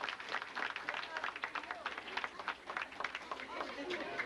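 Audience at a lecture event applauding students: a sustained round of dense clapping from a crowd indoors, steady throughout, with murmuring mixed in.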